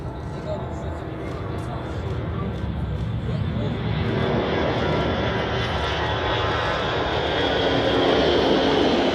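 A Swiss Airbus A350 jet takes off at Zurich Airport, its engines roaring as a broad, steady rumble that builds gradually louder over several seconds.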